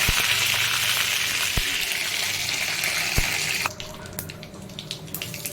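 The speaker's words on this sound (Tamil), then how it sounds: "இப்போ கடாயில் எண்ணெய் விட்டு கடுகு தாளிச்சிருக்கேன். கடுகு நல்லா பொரியறது." Mustard seeds crackle and splutter in hot oil in a pan, a dense steady sizzle with sharp pops, near and fairly loud, dropping to a softer crackle partway through.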